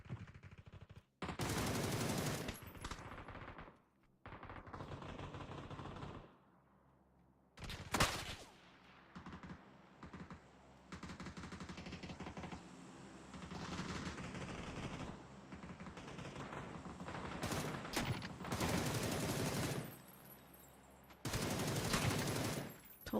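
Bursts of PUBG gunfire from players shooting, loud rapid volleys and single cracks spread across a chaotic firefight, with pauses of quieter ambience between the louder stretches.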